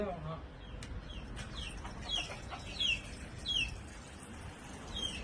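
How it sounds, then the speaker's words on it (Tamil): A chicken clucks and squawks in short bursts, some sharp and high, against a noisy outdoor background with scattered small knocks. "இப்ப அந்த கோழி முட்டை விட வருதுன்னு நினைக்கிறேன்."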